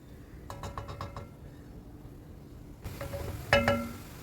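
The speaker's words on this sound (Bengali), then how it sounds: "এখন এর মধ্যে আমি ভেজে রাখা মশলাটা অ্যাড করে দিলাম আবার ওইটাকে দু মিনিট একটু কষিয়ে নেব" Fried spice masala stirred into chicken curry in a pan, with a run of close scraping clicks from the spoon followed by a broader, steady sizzle and a sharper burst of frying near the end.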